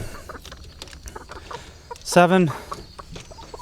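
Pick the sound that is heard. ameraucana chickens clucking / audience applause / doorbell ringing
ameraucana chickens clucking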